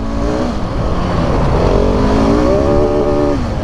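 A GasGas 700 motorcycle, off-road on dirt, revs hard into its rev limiter, engine pitch climbing and holding near the top before dropping off; loud and close, steady throughout with no talk.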